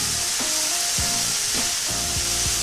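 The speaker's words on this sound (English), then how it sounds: "Get it all sizzling there." Turnip hash with yellow and green bell peppers frying in a pan, a steady close sizzle and hiss broken by a few soft scraping stirs.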